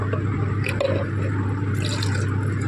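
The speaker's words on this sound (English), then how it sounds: "Now I will pour this, like decant this water" Water is poured off a protein gel in a lab tray during silver staining, giving a close, wet drip and squish with a short trickle, under a steady background hum and with no talking.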